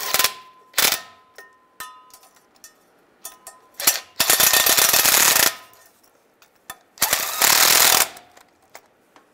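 Bolts being snugged down on a 2007-2013 Chevy Silverado during rear main seal work: sharp metallic clicks and taps, then two long buzzing bursts of a ratcheting power tool, close and loud, with no talk.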